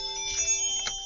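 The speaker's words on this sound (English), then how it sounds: "my alarm." A phone alarm ringtone plays a steady electronic tone with sustained pitched layers and a brief brighter chime near the end, fairly quiet and heard alone.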